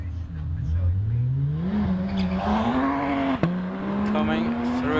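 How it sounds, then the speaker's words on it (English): Hillclimb race car at Prescott under heavy braking, its engine note a loud, close tonal line that dips and rises continuously for five seconds, with a brief sharp transient near the middle as the car slows into a bend. "So David Dyson brakes heavily into"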